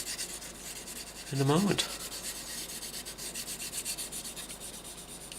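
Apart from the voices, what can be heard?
sanding a plastic model aircraft kit smooth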